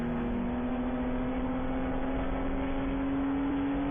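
Spec Porsche Boxster race cars driving a road course through corners, a steady loud engine drone with a sustained held pitch, continuous and close, no voices.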